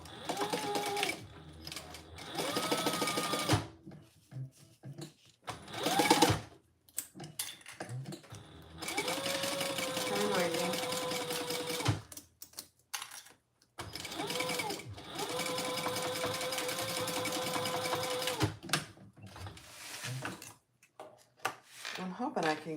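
A sewing machine bastes fabric in a series of rapid mechanical runs of stitching, each several seconds long and separated by brief pauses, moderately close, with someone talking at times between the runs.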